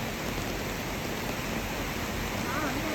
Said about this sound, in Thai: ฝนตกหนักเลยค่ะ